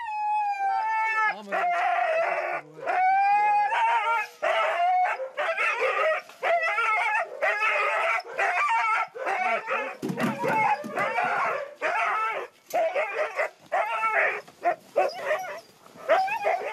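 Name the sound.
sled dogs barking and howling in the snow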